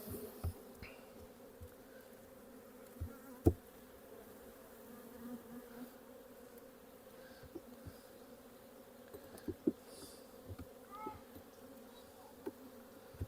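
Honeybees buzzing at a hive, a steady soft drone with a few faint clicks and bumps, quiet and continuous with no talking.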